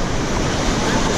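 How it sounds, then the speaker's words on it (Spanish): Ocean waves surge loudly at a beach, a dense, steady roar of surf and wind filling the moment with no pause. "ahora no me van a escuchar más, seguramente por las olas"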